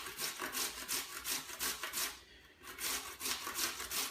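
Carrot being grated by hand for carrot parsley rice, a steady run of close, rhythmic rasping strokes with one brief pause midway, no voices.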